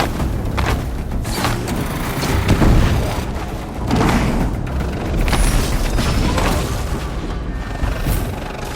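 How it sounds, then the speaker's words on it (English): Explosions in the video game Horizon Zero Dawn boom repeatedly, a string of heavy blasts and rumbling bursts of varying strength that fill the scene with mechanical clatter between them. "An explosion."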